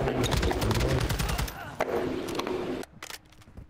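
Rapid automatic gunfire from the Call of Duty Modern Warfare 2 game rattles loudly for a few seconds, then breaks off into a few scattered single shots amid quieter game noise.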